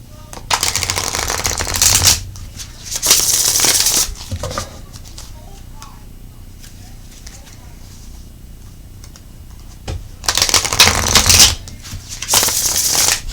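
Tarot cards being shuffled by hand in several loud, crisp riffling bursts of one to two seconds each, separated by quiet pauses, close to the microphone.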